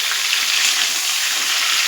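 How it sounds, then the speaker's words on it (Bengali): Chopped onion drops into a pan of frying potatoes, setting off a loud, steady, close sizzle that holds evenly throughout without a break. "এবার আমি পেঁয়াজ কুচিটা এর মধ্যে দিয়ে দেবো।"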